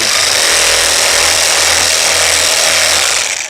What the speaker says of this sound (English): This is my rasp sander, the Kutzall rasp sander. And so here you can see me sanding right here.